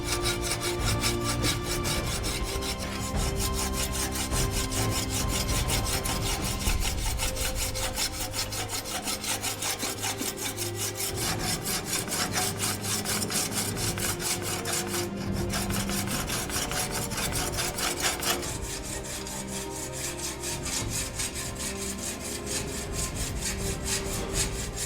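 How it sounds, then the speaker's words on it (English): Steel file drawn along the cutting edges of a Viking sword at a forge, a continuous rasping scrape repeating in steady close strokes with no talk. "To remove these vertical grinder marks, I will draw file the cutting edges and remove them."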